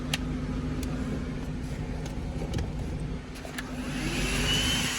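An Auto Joe ATJ-V501 car vacuum cleaner, plugged into a car's cigarette lighter, whirs steadily and loudly throughout, a continuous mechanical drone with a faint rising whine near the end.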